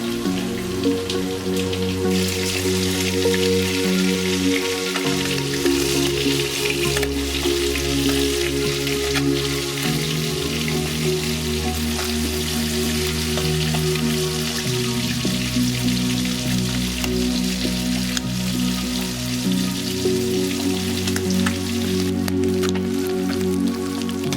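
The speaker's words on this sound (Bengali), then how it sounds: "মাছটা মোটামুটি ভাজা হয়ে গেছে, এবারে তুলে নেব।" Puti fish fry in mustard oil with a continuous, even hiss of sizzling that stays loud and steady, laid over a sustained background music track.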